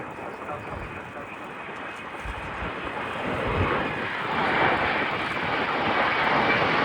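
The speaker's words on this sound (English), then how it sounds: "a rare opportunity to see the aeroplane flying past the ramp flags" An RAF C-17A Globemaster III transport jet flies past at an air show at Dalton Barracks, Abingdon. Its broad engine roar swells louder as it nears, under a talking voice.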